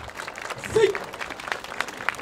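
Audience applause at an outdoor dance festival in front of a castle in Inuyama, steady clapping that swells briefly midway, heard under an announcer's voice.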